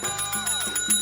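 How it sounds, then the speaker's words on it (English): A hotel service bell rings in a quick series of bright metallic dings, close and fairly loud, each strike leaving a sustained ringing tone that overlaps the next. "an invisible guest ringing the service bell"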